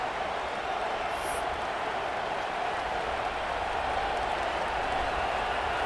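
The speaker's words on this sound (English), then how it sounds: "with this place rocking, the crowd forces a false start" A stadium crowd roars in EA Sports College Football 26, a dense, loud, unbroken wall of crowd noise that holds steady throughout.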